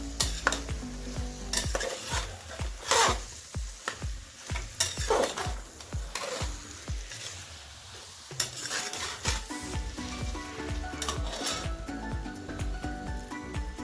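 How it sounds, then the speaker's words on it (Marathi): A spoon stirs a pav bhaji vegetable mixture with carrots in a sizzling pan, with repeated scraping strokes and metallic clinks over a steady fry, loud and close. "आणि मिक्स करून घ्यायचं आपल्याला अगदी छानपैकी।"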